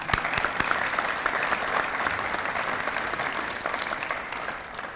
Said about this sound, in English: Another round of applause for Amy Goffner.